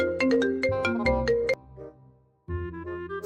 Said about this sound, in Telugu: ఫోన్ ఎత్తప్ప పాలేగా